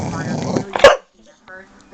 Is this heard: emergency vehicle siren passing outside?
no